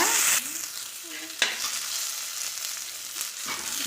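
Tomatoes and black pepper sizzle in a hot pan while being stirred, with a steady frying hiss broken by a few sharp utensil scrapes, close and with no voices.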